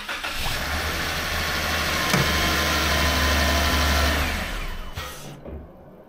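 A vehicle engine fitted with a PSC SG688 XD2 big-bore steering box runs steadily at idle after its first start, a loud continuous mid-range drone with a brief spike near two seconds before cutting off at the end.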